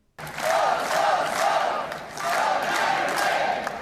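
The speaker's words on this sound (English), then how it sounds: "they're sitting here like cheering and shouting" A crowd of people at a get-together cheers and shouts in two loud swelling bursts, voices overlapping in a lively roar after a brief silent start.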